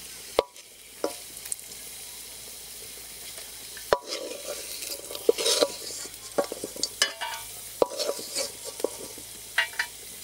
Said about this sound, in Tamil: முந்திரியை போட்டு பொன்னிறமாக வறுத்து எடுத்துக்கலாம்.